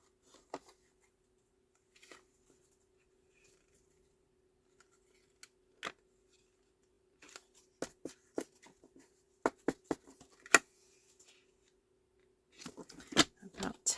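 Scissors cut through three stacked paper matting layers for card making, giving sparse snips and crunchy clicks that build into quick bursts near the end; a faint steady hum sits underneath, with no speech.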